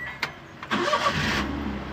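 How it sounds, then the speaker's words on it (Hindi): A car engine starts right away after a cam sensor wiring repair, with a short cranking burst followed by the engine catching and settling into a steady idle, close and fairly quiet. "अब गाड़ी स्टार्ट करते हैं।"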